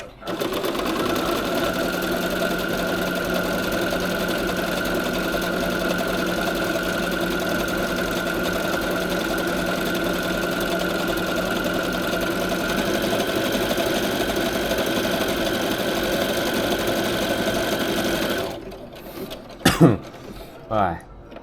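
A sewing machine stitches a cloth bag in one steady, continuous run for about eighteen seconds, loud and close, with a constant motor whine, then stops and a few brief knocks and handling sounds follow.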